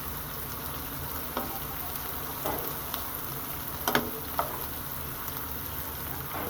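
Onion, garlic and tomato paste frying in a pan, a steady soft sizzle running throughout with a few brief stirring clatters and scrapes, no voices.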